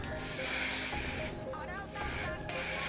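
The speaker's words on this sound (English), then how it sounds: "then just spray everything into place" Hairspray hisses close up in bursts over curled short hair, with brief pauses between sprays.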